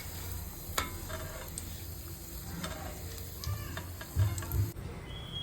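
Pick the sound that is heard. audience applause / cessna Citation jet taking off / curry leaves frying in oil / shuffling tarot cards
curry leaves frying in oil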